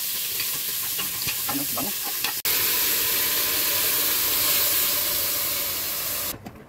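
Garlic, onion and tomato sautéing in a hot pan for a mung bean vegetable dish, a loud continuous sizzle with stirring scrapes near the start and a sharp clatter midway, with a brief spoken word.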